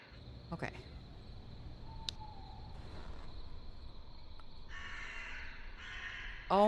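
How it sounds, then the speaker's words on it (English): Crows caw in a couple of short bursts near the end, over a constant insect drone and faint outdoor ambience, with a sharp knock just before the clip ends. "Oh my god, stop with the crows, please."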